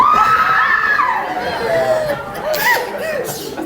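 An audience in a hall shouts and screams together on cue, a sustained loud crowd din of mixed voices, shrieks and some laughter that swells and holds for several seconds.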